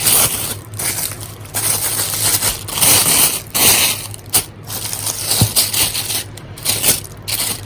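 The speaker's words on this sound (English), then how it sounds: "let's get the wax paper off, see what this new blade looks like" Wax paper crinkled and peeled away from a new bowie knife blade, close, loud crackling and rustling in uneven bursts with occasional sharp clicks, no speech.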